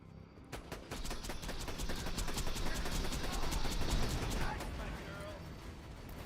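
Rapid automatic turret fire in the Borderlands-style shooter, a dense sustained rattle of shots lasting throughout, loud and continuous with game effects layered beneath.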